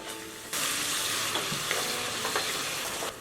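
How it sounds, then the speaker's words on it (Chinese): Eggplant and potato stir-fried in a wok with chili sauce, soy sauce and salt give a steady, close sizzle, broken by the scrape and clack of a spatula stirring several times. "炒出红油后，加入酱油，食用盐调味。"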